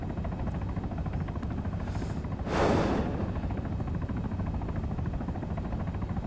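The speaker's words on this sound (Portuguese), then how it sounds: "Quem passou do meu lado rasgando de helicóptero?" A helicopter in the video game ARMA 3 flies past close by, a rising and fading whoosh of rotor noise over a steady buzzing game background, with no talk.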